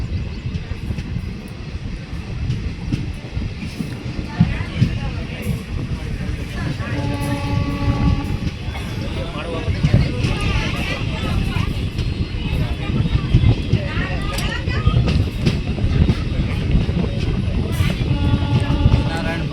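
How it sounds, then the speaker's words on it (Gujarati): A moving passenger train on the Lathi to Junagadh line gives a steady, loud, close rumble and rattle throughout, with brief tonal sounds rising over it now and then. "ટ્રેન હવે કંઈક સ્પીડ પકડી ગઈ છે"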